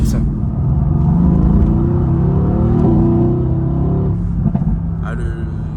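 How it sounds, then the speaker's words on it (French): Mercedes-AMG GT exhaust rumbling with a deep, steady low drone that swells and settles, heard from inside the car with people talking over it. "c'est le retour à l'échappement"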